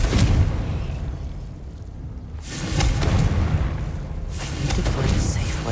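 Confringo blasting spell explosions in the video game Hogwarts Legacy: two heavy, rumbling booms with bright crackling bursts, separated by a brief lull, loud and close.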